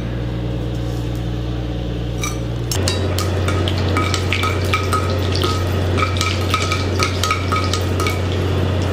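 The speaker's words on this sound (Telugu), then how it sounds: "ఒక స్పూన్ ఆయిల్ వేసుకుందాం కాస్త పోపు దినుసులు వేసుకుందాం" Tempering spices fry in a spoonful of hot oil on a lit stove for a peanut and tamarind chutney. A continuous crackle and spatter is heard over a low steady hum, with sharper pops that grow busier midway.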